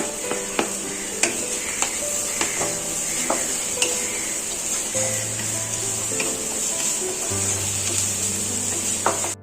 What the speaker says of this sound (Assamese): এতিয়া ইয়াতে নহৰু আদাখিনি দি দিম